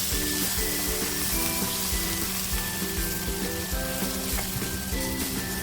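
Steady, dense sizzling fills the whole stretch as a little water rinsed from a chutney mixer jar hisses in a hot pan, with faint clinks and hums underneath and no voices.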